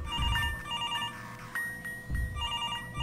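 Telephone ringing in the video game Escape Artist, a repeated electronic bell-like ring in two bursts, fairly close and clear with almost no talking.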